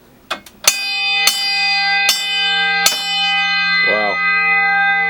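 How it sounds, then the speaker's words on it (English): Loud old brass telegraph bell struck several times, each sharp metallic clang ringing out with a long sustained tone that overlaps the next, close and very loud. "Here's a beautiful telegraph right here. This is one of the loudest you'll ever hear."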